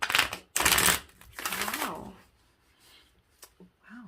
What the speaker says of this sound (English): There goes that shuffling again.